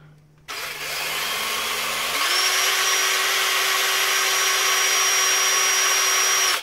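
A Ryobi power drill spins up with no load, a steady close whine that steps up in pitch after a brief start and then holds constant and loud until it cuts off.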